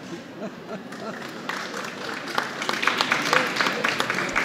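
Audience applause welcoming the perfumer-writer Jean-Claude Ellena, a dense wash of clapping that builds from moderate to louder and fuller across the clip, with no voices over it.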